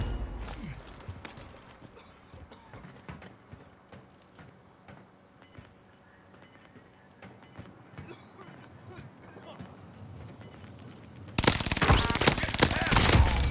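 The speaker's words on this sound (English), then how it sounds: "I am under fire." Gunfire in a battle royale video game, scattered sharp shots and bursts spread across the clip under quieter background talk, ending in a loud dense burst of sustained fire.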